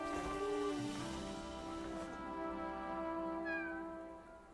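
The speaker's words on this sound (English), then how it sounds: "It is the cat that is speaking to us." A cat meows in the video game Blue Protocol Star Resonance, drawn-out tonal cries over a steady hum of game music, fairly faint.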